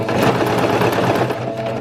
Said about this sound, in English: I'm going to be sewing so that the right edge of my sewing foot is aligned with the right edge of the fabric